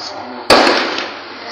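A single sharp gunshot-like crack rings out at a bank robbery scene in Uromi, Edo State, Nigeria, loud and sudden over a background hum, with a short echoing tail that fades slowly.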